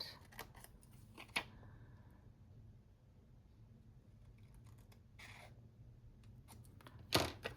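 Paper being cut with scissors while making a craft banner, a few quiet close snips and rustles spread over a mostly hushed stretch, with one louder crisp cut near the end.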